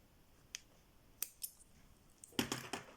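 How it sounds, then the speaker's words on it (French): Small scissors snip excess embroidery thread on cross-stitch work, a few quiet, sharp, close clicks spaced apart, then a quicker cluster of snips at the end. "je coupe mon fil qui dépasse"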